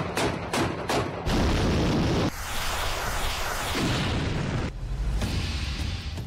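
A Russian army vehicle in Kherson is blown apart in a Ukrainian attack: a few sharp, rapid bangs lead into a loud, heavy blast, followed by sustained rumbling and crackling noise, with no voices.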